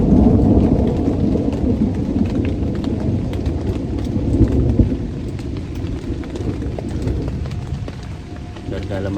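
Heavy rain pours steadily at a campsite with rumbling thunder, a dense, loud wash of low roar and hiss that eases slightly partway through, with no clear voices.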